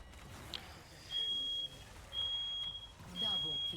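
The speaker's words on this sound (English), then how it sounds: "so that alarm keeps going off" Electronic alarm in a video game sounding in repeated steady high beeps, three sustained tones with short gaps between, moderately loud over a busy low game background.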